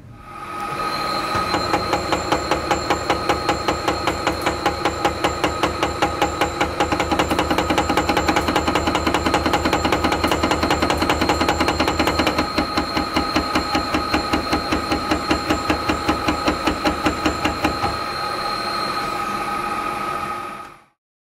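A milling machine in low range at 400 RPM with the table feed at maximum knurls a flat metal surface, giving a loud, steady, rapid rhythmic clatter of repeated metallic impacts over a constant machine hum for about twenty seconds.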